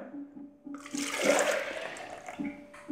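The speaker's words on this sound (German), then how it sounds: "Ich gieße die überflüssige Flüssigkeit hier rein." Excess liquid from grated potatoes is poured off into a container, giving a close, rushing splash that swells and then fades. A low background hum runs under it and no one speaks.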